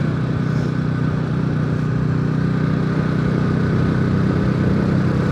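A motorcycle engine drones steadily throughout on a mountain road ride from Rampur to Tatopani in Mustang, with constant low rumble and wind noise, as if heard while riding along.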